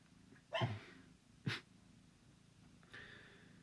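A female dog gives two short barks, the first a little stronger than the second, standing out from a quiet room with a faint breathy noise trailing after.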